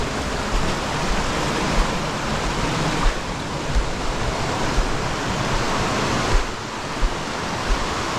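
River current rushing past rocks stacked to slow the flow, a steady, loud, broadband roar of water that continues unbroken throughout with no talking.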